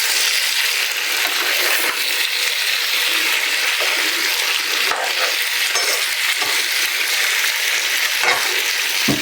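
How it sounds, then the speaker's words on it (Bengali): Mixed vegetable bhaji sizzles steadily in a pan while being stirred. Occasional scrapes and knocks of the spoon break through the close, continuous frying hiss, and no one speaks. "এখন আমি ভাজিটা একটু নাড়া দিয়ে দিতেছি।"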